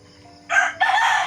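A rooster crows nearby, loud and clear, in a short two-part call that starts abruptly and tails off, with faint background noise before it.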